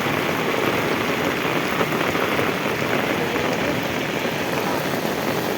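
Heavy monsoon rain pours steadily in Vejalka village, a dense, continuous broadband hiss of downpour on surfaces, loud and unbroken throughout with no voices.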